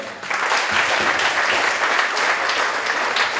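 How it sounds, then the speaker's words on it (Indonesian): An indoor leadership forum audience claps together for an introduced speaker, a dense, even burst of many hands that stays loud and steady for about three seconds with no voices on top. "Kepada Kang Ridwan Syah Yusuf Ahmad, kita kasih aplaus sama-sama."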